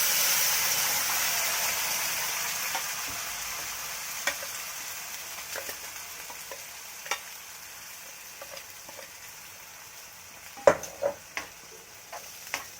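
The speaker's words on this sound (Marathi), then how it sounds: "मी हे मसाला बारीक करून घेतलेला मी मसाला घालते." Ground masala stir-fried with browned onion in a pan for fish masala, giving a steady sizzling hiss with scattered scraping stir strokes that grow sharper and clustered toward the end.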